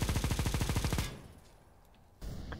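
Automatic rifle fire in Counter-Strike: Global Offensive, a rapid burst of about a dozen loud shots lasting one second, then a quiet gap and a sudden return of noise.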